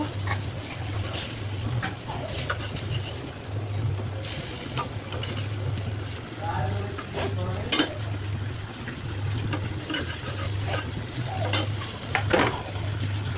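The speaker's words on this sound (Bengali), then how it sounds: "টমেটোগুলোকেও ভালো করে কষিয়ে নেব" Chopped tomatoes being fried and stirred in a pan for a spicy small-fish curry, a continuous sizzle broken by repeated scraping and clinking of a utensil against the pan, with a low steady hum underneath.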